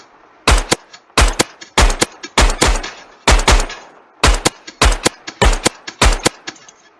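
Rapid bursts of loud, sharp gunfire ring out in a Minecraft horror game, fired in quick clusters of two or three shots with brief pauses between them.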